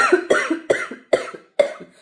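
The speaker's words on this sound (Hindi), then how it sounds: "इतनी तेज खांसी आ रही" A fit of harsh coughing nearby from someone with a cold and headache, five sharp bursts in quick succession, each loud and abrupt.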